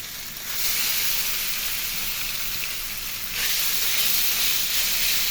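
Marinated chicken hissing and sizzling in hot oil tempered with cumin seeds, a steady close broadband fry that swells louder about two-thirds of the way through.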